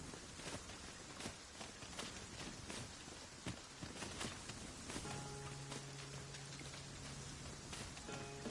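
Steady rain pattering on surfaces outdoors, a dense, even hiss with scattered drops and soft thuds, moderately quiet and continuous, with a faint low tone entering partway through.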